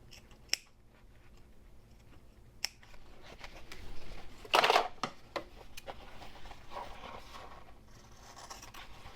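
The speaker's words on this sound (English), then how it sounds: "So I'm going to just snip right into the corner, up to the stitches, but not through my stitches" A sharp pair of scissors snips into the corners of sewn fabric up to the stitching, with scattered crisp cuts and rustling of cloth, close and fairly quiet.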